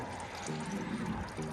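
Used engine oil from a 2011 Ford Explorer's filter pours and trickles into an oil catch can, a steady low liquid gurgle that swells slightly midway, close and continuous with no talk.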